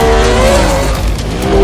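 A Mercedes-AMG Project One with a 1.6-litre turbocharged V6 Formula One engine revving up to 11,000 RPM at the 2017 Frankfurt Motor Show, heard as a loud, close, sustained high-pitched engine howl.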